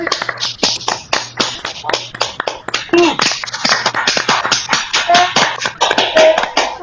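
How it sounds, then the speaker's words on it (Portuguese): An audience at a Portuguese-language evening gathering bursts into applause, with dense, steady clapping sustained throughout, close and fairly loud, and a few voices calling out over it. "dar uma salva de palmas"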